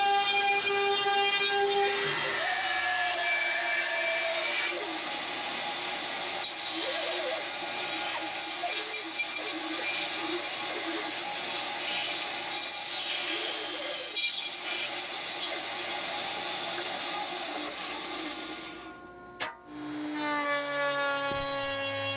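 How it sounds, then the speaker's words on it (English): A workshop machine runs steadily and loudly through repetitive work, a constant mechanical drone with tonal whine that holds for about nineteen seconds, then stops abruptly and another machine sound starts. "I hired a robot to do it this time around. The robot doesn't complain doing monotonous work."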